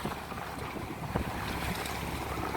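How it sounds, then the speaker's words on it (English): Steady wind blows at sea aboard a small boat sailing off Jura in somewhat rough water, a continuous broad rush with the slap of waves and light buffeting on the microphone. "The wind is right on my nose at the moment"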